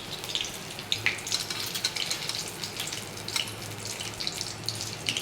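Bay leaves dropped into hot oil in a kadai, giving a steady crackling sizzle with sharp spitting pops over a continuous frying hiss, close and fairly loud, with no talking.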